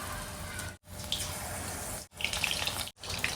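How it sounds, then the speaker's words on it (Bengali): Chicken nuggets frying in hot oil hiss and crackle steadily at close range, with the broadband bubbling broken by a few brief pauses. "নাগেটসটা একটুখানি ভাজবো"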